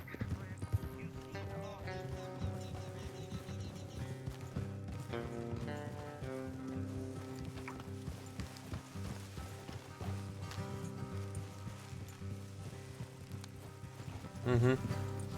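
Horses' hooves clip-clop steadily at a brisk gallop in Red Dead Redemption 2, over layered game music, with a whinny or two rising among the rhythmic pounding.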